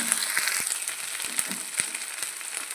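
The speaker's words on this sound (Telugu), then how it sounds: "టమాటా పచ్చివాసన పోయినంత వరకు కూడా 1 నిమిషం ఇలా వేపుకుంది" Tomato pulp frying in a pan with ginger-garlic paste for prawn curry, a steady close sizzle with soft crackling pops and occasional stirring scrapes.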